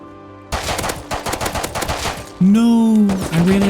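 Rapid close gunfire in the video game Rust during a base defense against a large raiding group, a fast run of shots followed by a loud sustained tonal blare.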